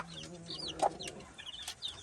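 A hen clucks softly with faint peeping of chicks around her, quiet and close, in a brief burst of farmyard sound.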